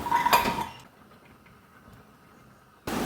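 A small pan is set down on a kitchen stove before onions are fried, making a brief close metallic clatter followed by near silence, with no speech.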